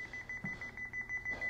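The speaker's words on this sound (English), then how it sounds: "it's beeping on a system trouble message" A Honeywell alarm panel emits a steady series of short, evenly spaced electronic beeps as a system trouble alert, fairly quiet against a low background hum in a room.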